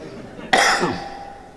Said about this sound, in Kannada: ಯಾಕೆ ನನಗೂ ಕೆಮ್ಮು ಬಂತು?